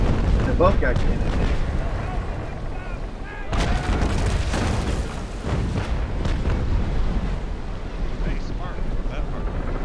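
Ship cannons in the naval battle game Naval Action fire with heavy booms, including a strong blast mid-clip and scattered further shots, over steady wind and sea noise.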